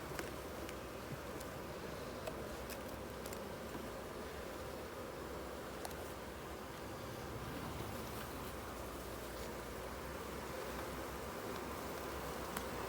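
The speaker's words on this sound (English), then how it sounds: "this buzzing is like a calm, like we're doing our thing" Honey bees at an open hive make a calm, steady hum that fills the whole stretch at even loudness, close up, with faint rustling and no talk.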